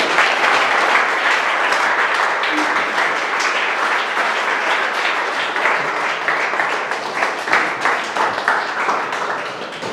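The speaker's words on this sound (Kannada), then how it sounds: "ಅವರಿಗೆ ನಾವು ಎಲ್ಲರೂ ಚಪ್ಪಾಳೆಯೊಂದಿಗೆ ಸ್ವಾಗತವನ್ನು ಮಾಡಿಕೊಳ್ಳೋಣ" An audience at an institute applauds to welcome a visiting CRPF COBRA commando, with sustained, dense clapping that fills the room and stays steady, then turns slightly more rhythmic and individual toward the end.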